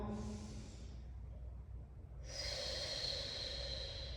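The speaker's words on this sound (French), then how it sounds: "Donc on inspire consciemment" A slow, conscious deep inhalation during a guided breathing exercise. Soft airy breath sounds come close to the microphone, with a brief pause before a fuller, steadier intake of air.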